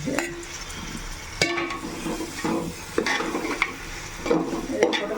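Vegetables for biryani are stirred and sautéed in a pan, with a steady oil sizzle under repeated scraping strokes and metallic clinks of a spoon against the pan, close and moderately loud.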